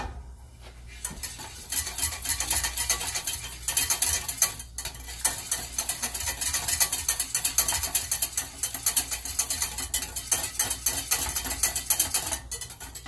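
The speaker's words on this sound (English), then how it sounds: "So just keep whisking" A whisk scrapes and rattles steadily against a pot of hot lemon meringue dessert mixture, a continuous fast clattering that runs throughout with no voices.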